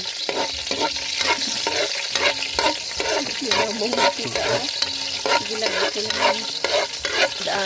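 Garlic frying in a pan while being stirred, a continuous loud sizzle broken by repeated scraping strokes of the utensil, close up with no talking.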